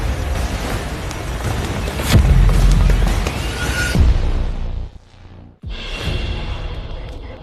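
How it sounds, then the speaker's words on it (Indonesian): Bomb blasts in a drama film: a heavy, booming explosion with a rolling roar that cuts off sharply, followed by a sudden burst and a second rumbling wave of debris and fire. "Ledakan semua bom cegah Chen Fusheng kabur."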